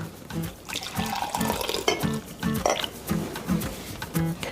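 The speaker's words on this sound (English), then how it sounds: "when I go to serve it up, I pour it into a cup" Turmeric tea pours into a cup with a close, bubbly gurgle in uneven bursts, moderately loud and without any talking.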